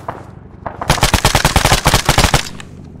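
Rapid automatic gunfire from the Arma 3 video game on the Stratis map, loud, close bursts of dozens of shots in quick rhythm that fill most of the clip.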